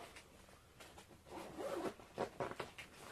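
The waterproof zipper on a co-angler gear bag is drawn along in short, scratchy pulls, close up and fairly quiet, with no one speaking.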